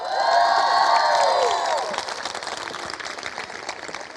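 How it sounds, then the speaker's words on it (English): A gym crowd at a women's basketball event cheers and applauds, opening with loud sustained shouts and whoops that fade into a dense, steady patter of clapping. "I like the cheering."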